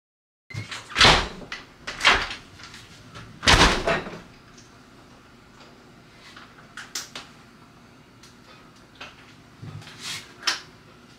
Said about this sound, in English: I don't think I can close this door after this weather stripping.